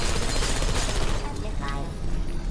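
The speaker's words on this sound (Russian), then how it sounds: "Я слышу выстрелы!" Rapid automatic gunfire from turrets in the video game Portal 2, a dense loud burst that thins out midway, with game voices speaking over it.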